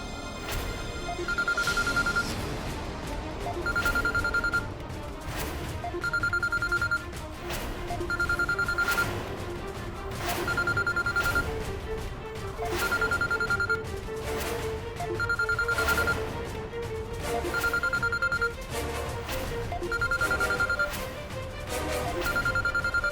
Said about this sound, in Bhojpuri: अब फोन के घंटी के आवाज चैताली के कमरा से